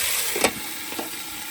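Eggplant frying with chillies in a pan gives a steady close sizzle with a brief louder burst of crackle partway through, and no talking.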